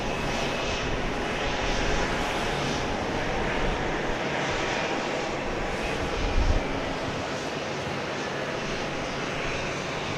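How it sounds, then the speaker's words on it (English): A fixed-wing aircraft approaches to land at Dallas Love Field, its engine roar steady and loud throughout, a broad continuous rumble swelling slightly midway, with street traffic of the surrounding neighborhood blended in. "And you hear another aircraft coming in."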